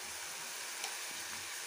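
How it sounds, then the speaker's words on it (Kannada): Masala with coriander powder fries in a pan for egg bhurji. It gives a short, steady, soft sizzle that holds level throughout, with a faint tap near the middle and no voices. "ಹಾಗೆ ಸ್ವಲ್ಪ ಧನಿಯಾ ಪೌಡರ್ ಅನ್ನು ಹಾಕಿ ಇವಾಗ ಚೆನ್ನಾಗಿ ಫ್ರೈ ಮಾಡ್ಕೊಳ್ಳಿ."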